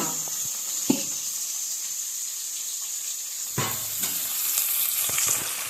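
Onions sauté in a pan until golden, giving a continuous close hiss and sizzle broken by a few sharp clinks and scrapes of the spatula, with no voices.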